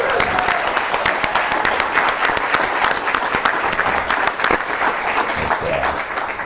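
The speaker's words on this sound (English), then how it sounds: "Give them a round of applause." Sustained applause from a crowd at an artists' collectors summit, thick, continuous clapping with a few sharper claps standing out, tapering slightly toward the end.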